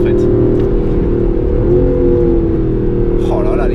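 Aston Martin Vantage AMR (2019, manual gearbox) exhaust revving loudly and continuously close by, a deep steady engine roar with rising and falling throttle; a voice speaks briefly over it.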